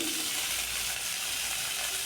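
A small cut tomato goes into squash and potato frying for a curry, and a loud, continuous sizzle and hiss carries on close by, with a little stirring and no voices.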